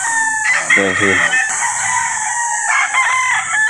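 A Boston White stag rooster crows loudly and close, one full cock-a-doodle-doo followed by shorter calls and clucks, with someone briefly speaking over it.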